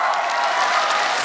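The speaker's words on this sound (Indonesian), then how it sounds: "Boleh kasih tepuk tangan sekali lagi buat Sadana Agung" A stand-up comedy audience claps for comedian Sadana Agung, a dense, even burst of many hands close by with faint cheering underneath, holding steady throughout.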